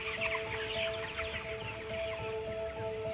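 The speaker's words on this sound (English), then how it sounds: "There's tens of thousands of birds in here" Chickens cluck in a large poultry barn holding tens of thousands of birds, a dense continuous chorus of overlapping clucks and calls over a steady ventilation hum.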